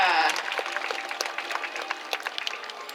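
Spectators at the SeaWorld San Diego orca encounter applaud, a steady patter of many hands clapping in an open outdoor stadium, moderately loud and gradually thinning out, with a voice heard briefly at the start.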